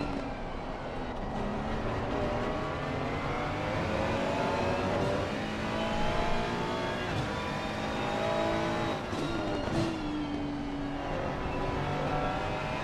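A Bentley race car accelerating hard on the Barcelona circuit during a racing series round, its engine roaring steadily and loudly with rising pitch throughout, no talk.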